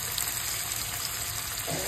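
Mutton chops frying in a pan give a dense, steady sizzle, close and even, with no voices over the short stretch.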